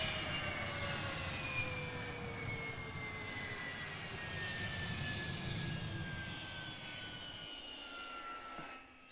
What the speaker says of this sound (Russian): произвел посадку самолет из Ленинграда рейсом